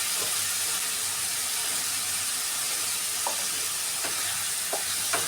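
Tomato bhaji with salt being stirred in a hot pan, a steady sizzle and hiss throughout with a few soft scraping strokes of the spoon standing out near the end.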